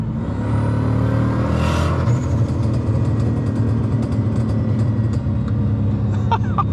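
Exhaust from a turbocharged 3UZ V8 Lexus GS is heard from inside the car while driving: a steady low engine drone with faint, scattered crackles and pops from the pipes, muffled by the cabin.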